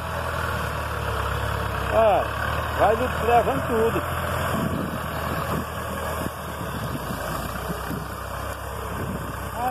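Tractor engine idling and rumbling steadily while brush and crop residue are gathered and loaded in a field, with someone talking over the continuous low drone.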